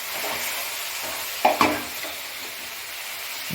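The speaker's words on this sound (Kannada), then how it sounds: "ರುಬ್ಬಿರೋ ಮಸಾಲೆ ಹಾಕ್ತಾಯಿದ್ದೀವಿ" Ground masala poured into a simmering mutton head sambar in a military-hotel style kitchen: a steady sizzling bubble with a couple of sharp splashing stirs in the middle and no talking.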